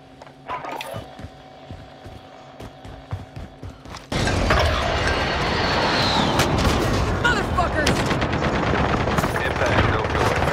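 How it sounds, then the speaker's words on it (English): Video game gunfire: after a few seconds of quieter clicks, tones and a voice, a loud sustained barrage of rapid shots and blasts breaks out and continues to the end. "Somebody shooting in from somewhere"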